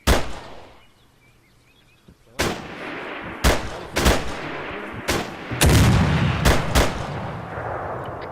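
Enemy artillery in Arma 3 lands as a series of loud, sharp blasts and heavy booms, roughly eight impacts spaced irregularly over a rumbling battlefield background after a brief quieter lull.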